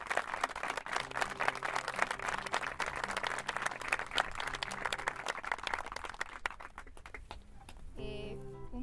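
An audience applauding singers at an outdoor tribute event for victims of Francoism in Campu Casu, Asturias, dense sustained clapping that fades near the end as music begins, with a little crowd murmur.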